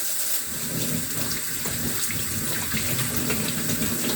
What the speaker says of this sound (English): So always wash your hands as much as you can when you're cooking.